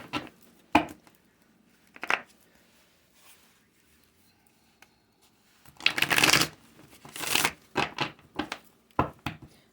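Tarot cards are shuffled in quick riffling bursts, close and crisp, with scattered taps and handling noises between them.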